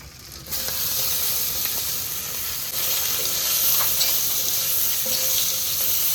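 Dry red chillies, cumin and bay leaf drop into hot oil and sizzle in a steady, close hiss that begins abruptly and carries on evenly with small crackles, with no talking.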